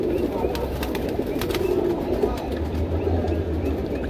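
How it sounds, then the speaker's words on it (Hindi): Sharangpuri pigeons coo softly and continuously at close range, with low throaty murmurs beneath a busy background and a few faint clicks and flutters. "अच्छी क्वालिटी का कबूतर है भाई सारनपुरी।"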